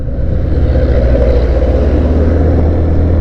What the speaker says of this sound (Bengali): লবণ কোম্পানির কচ্ছপ বাইক নিয়ে উঠতেছি।